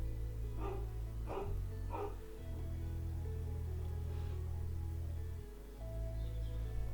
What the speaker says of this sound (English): I think my dog is barking